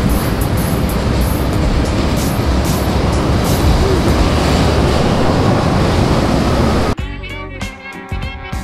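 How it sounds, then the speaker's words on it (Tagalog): An MRT train arrives at a station platform with a loud, steady rushing roar that fills the space for about seven seconds, then cuts away to quieter platform sounds. "At ayan na, parating na nga yung train."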